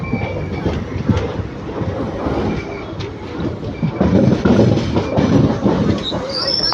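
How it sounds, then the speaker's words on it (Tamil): Erode to Palakkad intercity express train running at speed, with a loud continuous rumble and rhythmic clatter of carriages on the rails, steady throughout with a faint high whine near the end. "கரெக்டாக ஒரு மணிக்குங்க கோயம்புத்தூர் வண்டி வந்துருச்சு"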